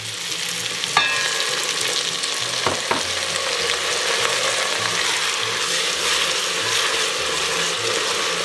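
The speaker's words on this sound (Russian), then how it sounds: "Потушим овощи с вином минуты примерно 3." Carrots, bell peppers and garlic stewing with wine in a kazan give off a steady, close sizzle and bubbling, with a couple of faint utensil clinks near the start.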